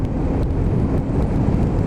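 A BMW R1150R boxer-engine motorcycle pulls through the gears, a close, steady low engine drone with road and wind rush for a couple of seconds, no talking.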